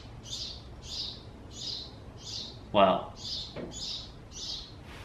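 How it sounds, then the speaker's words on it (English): A bird chirps in a steady rhythm, about eight short bright calls evenly spaced, with a person briefly exclaiming partway through. "there's a bird chirping"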